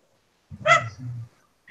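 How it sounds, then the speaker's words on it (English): A dog gives a single short, close bark followed by a brief low grumbling whine, then quiet. "Sorry, the dog's backtalking me."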